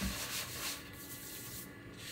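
Flour being rubbed around on a board for pretzel dough, a faint, soft continuous scraping hiss up close with gentle swells, no speech.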